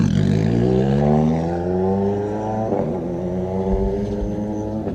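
A rally car pulls away on a tarmac stage at the Azores Rallye, its engine revving up through rising gears in a loud, sustained drone that climbs, briefly dips at a shift, and carries on close by.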